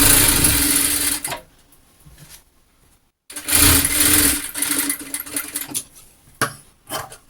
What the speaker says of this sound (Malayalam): അതിന് ശേഷം നമുക്കിതൊന്ന് സ്റ്റിച്ച് ചെയ്തെടുക്കാം